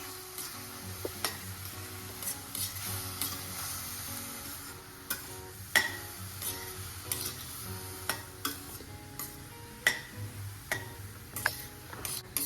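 Sev khamani ingredients, a crumbled mixture added to a pan and mixed, are stirred with a spoon that scrapes and taps against the vessel in repeated clicks, with a faint sizzle underneath.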